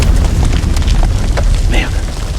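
In-game grenade blast in The Dark Pictures: House of Ashes, a loud, sustained low rumble filling the whole clip with crackling debris, mixed with shouting voices.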